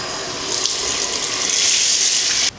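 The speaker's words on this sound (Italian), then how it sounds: "Eccomi qua, risciacquo." Tap water runs steadily into a bathroom sink as a face is rinsed, a loud, continuous splashing gush close by that cuts off abruptly at the end.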